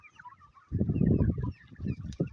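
Free-range desi chickens of the Double FG breed cluck and squabble while pecking at feed, a close cluster of short, bursty calls rising suddenly after a quiet start.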